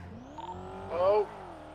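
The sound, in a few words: car engine sounding odd, from video game GTA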